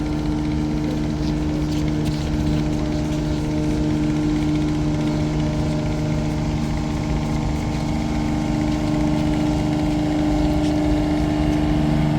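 Ferry engine at Beltala ferry ghat in Barisal drones steadily and close, a loud low rumble with tonal hum that holds unchanged throughout, alone with no talking.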